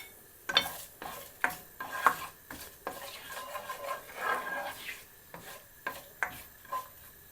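Whole cumin seeds and a bay leaf sauté in oil in a kadai, a steady soft sizzle under repeated sharp scrapes and clinks of a spoon stirring against the metal pan, close and moderately loud.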